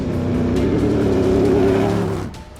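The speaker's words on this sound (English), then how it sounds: "This is actually the very first time that I've driven this car on the track." A Toyota rally race car drives hard on a desert rally shakedown track, its engine roaring loud and close with a steady, rising growl before the sound drops away abruptly near the end.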